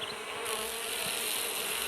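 Paper wasps buzz close by at their nest in a continuous, dense drone, several insects humming together without pause.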